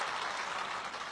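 Brief burst of audience applause at a Hindi poetry recital (kavi sammelan), a dense, even clatter of many hands lasting about a second.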